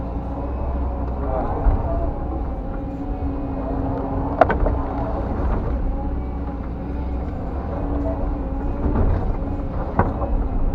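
Hydraulic excavator spreading and closing clay at the finishing stage of a pond build, a steady low engine drone with occasional sharp clanks, continuous and fairly loud, with speech heard at times over the machine.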